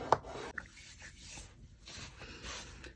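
A sheet of paper is scored on a scoring board for a Stout quad mini album, producing soft rubbing and scraping strokes with a couple of small taps, quiet and close, with no talking.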